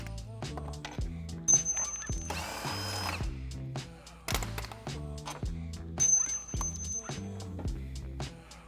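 Power tool working bolts loose on the bumper of a 2021 Ford Bronco: a close, loud whirring drill or impact driver in repeated bursts with ratcheting clicks and brief metallic rattles between runs.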